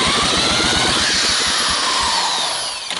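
A handheld power drill fitted with a socket spins an engine's starter, giving a loud, fast, rhythmic churning whir with steady pulsing strokes that winds down near the end; no talking.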